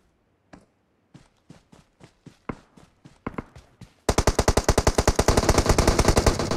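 Gunfire in a war video game starts as spaced single shots that gradually speed up, then breaks into a loud, continuous rapid machine-gun burst.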